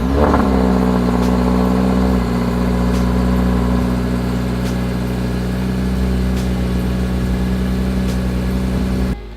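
Car engine running steadily and loudly nearby with a low droning hum, rising briefly at the start and then holding even for about nine seconds before cutting off, with faint ticking over it and no talking.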